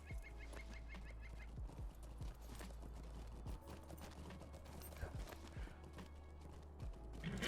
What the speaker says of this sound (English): I will use my horse